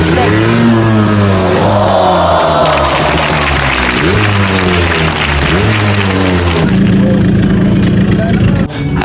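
2001 Yamaha RXT 135 motorcycle engine running steadily at close range, a buzzing two-stroke note with shifting revs, with voices and background noise mixed in.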